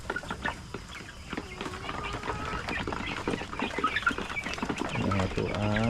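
Imported brown egger breeder chickens cluck and call in a busy backyard, several birds overlapping at close range with steady background noise.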